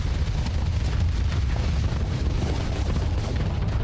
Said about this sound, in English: Giga Cannon Volley actually happened.